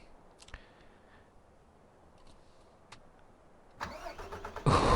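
A truck engine in a farming video game cranks and catches near the end, after mostly quiet moments with a few faint clicks, then rises into a loud starting roar.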